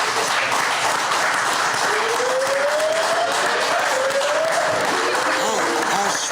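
Studio audience applause and cheering rise at a hip-hop talk show taping, a dense continuous wash of clapping and crowd noise with a faint rising whoop-like tone through the middle.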